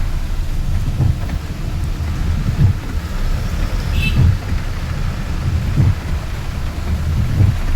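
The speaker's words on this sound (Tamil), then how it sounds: "மழைனா மழை, அப்படி ஒரு மழை" Heavy rain pours down steadily in Nagercoil, a dense continuous roar with low rumbling swells rising every second or two, no voices.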